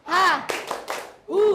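A group performs the tepuk rimba clapping chant, sharp rhythmic claps interleaved with loud chanted vocal calls, short and punchy.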